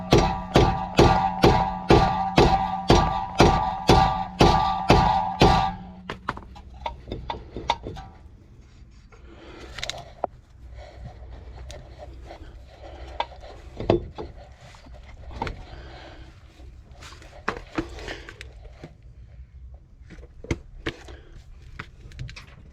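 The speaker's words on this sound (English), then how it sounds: "We'll give us a few hits and see if we can loosen this up. Alright, got a wooden hammer." Sharp wooden knocks from a wooden hammer striking a blown engine in a 2008 Nissan X-Trail T31 2.5L, a fast, even series of about a dozen hits, then sparser thuds and clatter at irregular intervals.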